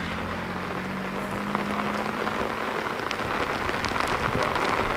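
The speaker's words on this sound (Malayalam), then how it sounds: "ഇന്നലത്തിന് സമാനമായി കനത്ത മഴയാണ് കോട്ടയത്ത് ഇന്നും അനുഭവപ്പെടുന്നത്" Heavy rain pours down in Kottayam, Kerala, a steady, dense hiss of drops hitting surfaces all around, with no talking.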